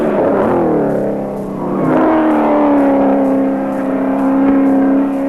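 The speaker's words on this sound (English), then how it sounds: "Up the mountain, keep the revs up." A 1983 Bathurst 1000 race car engine climbs in pitch and holds high revs through a corner up the mountain, loud and close, with a dip as the driver shifts before the note rises again.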